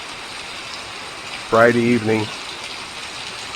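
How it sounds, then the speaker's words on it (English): Evening rain falls in Byron Center, a constant soft hiss that continues throughout, with a brief spoken phrase heard over it partway through. "hey, the rains did come to Byron Center"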